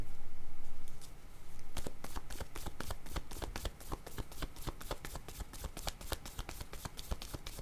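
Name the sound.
cards being shuffled and drawn for a reading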